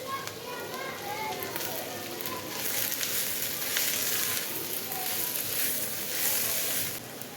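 Small, finely chopped capsicum and garlic fry in a hot pan, giving a steady, bright sizzle that swells slightly partway through and continues close and loud throughout.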